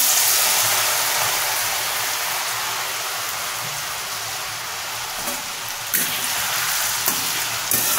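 Washed, squeezed potato frying in hot oil for crispy potato nest balls: a loud, steady sizzle and crackle that holds for the whole stretch, with a few sharper pops near the end and no talk.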